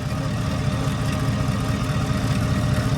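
Chevrolet engine idling steadily with a 6L80 transmission being filled, a loud, continuous low rumble with constant vibration throughout and no talking.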